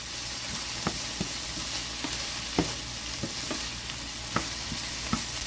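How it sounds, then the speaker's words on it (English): Cornbread stuffing mixture sautéing in a pan, with a steady close sizzle broken by sharp scrapes of stirring at irregular intervals. No one speaks. "I'm gonna let this just go ahead and basically saute"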